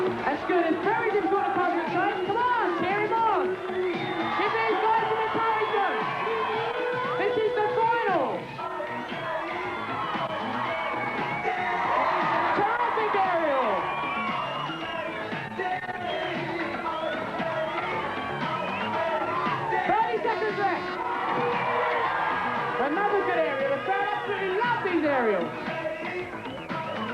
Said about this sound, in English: Come on, cheer him on. Give these guys some encouragement.